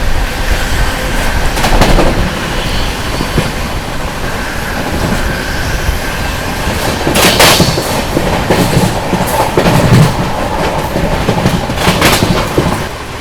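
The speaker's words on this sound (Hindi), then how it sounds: "आजमगढ़ दिल्ली कैफियत एक्सप्रेस को हम लोग ओवरटेक कर रहे हैं दोस्तों" A Humsafar Express rolls at speed past the Kaifiyat Express at Shikohabad Junction, with loud continuous rumble, rhythmic clickety-clack of wheels over rail joints and occasional sharper metallic bangs, close and unbroken throughout.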